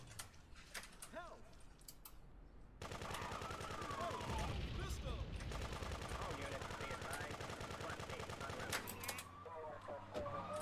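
Pistol gunfire in the video game Grand Theft Auto 2 sounds as repeated sharp shots over busy, constant game noise, with a quieter stretch at the start.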